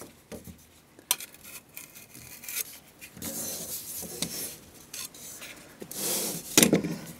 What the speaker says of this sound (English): I've got my bucket of mud, so let's go ahead and start applying it over this fiberglass mesh